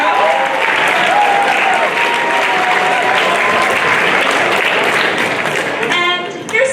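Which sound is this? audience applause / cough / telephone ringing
audience applause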